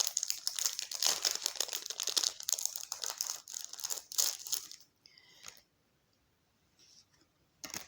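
A SHEIN order package being opened up close, with loud crinkling and tearing of plastic wrapping for about five seconds, then a few faint rustles and one last crackle.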